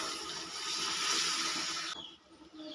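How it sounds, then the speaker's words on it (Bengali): A steady rushing pour of water into a pot of ghugni with boiled peas and potatoes, loud and close for about two seconds before cutting off to quieter kitchen sound. "আমি আরও এক কাপ মতো জল দিয়ে দিলাম"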